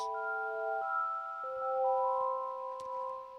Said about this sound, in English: This is a much softer hit of the chimes.